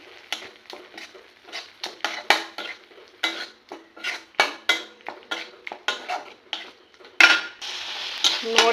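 Onion, garlic and ginger masala paste frying in a pan while a spoon stirs and scrapes it, with steady rhythmic clinks and scrapes over a faint sizzle, growing louder near the end.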